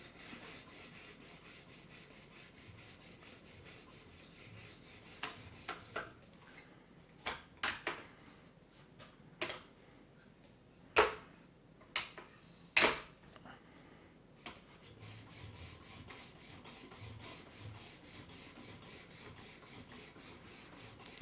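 A Spyderco Para 2 knife edge is drawn across a ceramic sharpening stone in faint, scattered rasping strokes, roughly a dozen short scrapes over a quiet background, with no talking.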